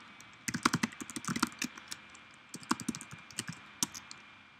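A password is typed on a computer keyboard at close range in quick, uneven bursts of sharp key clicks, followed by a pause and then a few more taps. The typing is fairly soft and no voices are heard.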